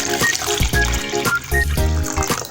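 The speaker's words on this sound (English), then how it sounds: "So using this tin, I'm going to put some water." Water poured into a metal tin for storing vegetables, a continuous splashing, gurgling pour with ringing metallic tones, close and fairly loud, broken into short surges.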